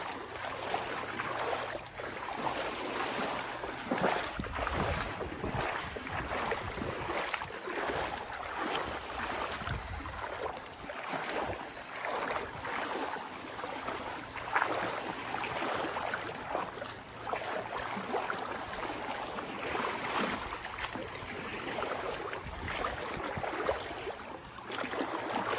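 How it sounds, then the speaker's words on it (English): Footsteps wading through shallow sea water at Mae Nam Beach on Koh Samui at high tide, a continuous splashing and sloshing wash with gentle surf and wind, rhythmic swishes of legs moving through the water close by. "I need to walk through the water"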